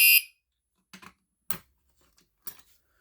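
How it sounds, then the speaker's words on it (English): A newly installed fire alarm horn set to a code 3 pattern sounds during a test, giving short, sharp horn blasts with gaps between them. "I changed the fire alarm to a code 3 horn"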